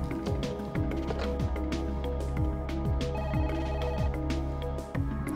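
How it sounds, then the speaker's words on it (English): A telephone rings in the Parasite Eve video game, a steady electronic ring repeating over dense game music and effects, with no talking. "Oh, there's a phone. I can save at this phone."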